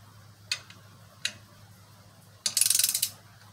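A ratchet tightens the clutch pressure plate bolts on a Jeep 4.0 engine: two single clicks, then a quick run of about a dozen rapid clicks, close and crisp in a quiet shop.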